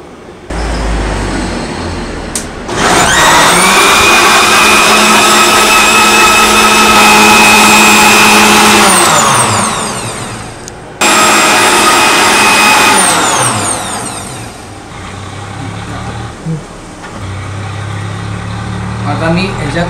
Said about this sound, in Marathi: आता हे सगळं आपण छान वाटून घेऊया.